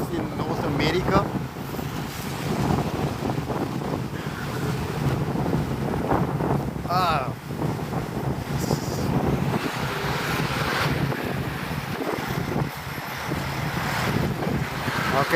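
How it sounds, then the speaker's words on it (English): Strong wind buffets the microphone continuously on a walk across the Brooklyn Bridge in New York City, a loud rushing roar with gusty swells throughout while a person talks underneath. "this wind is like really blowing now"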